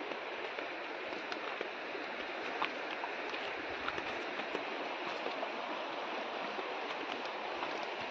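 Steady, rushing flow of a forest river in Konkan, a constant broadband wash with no pauses, fairly close and uninterrupted.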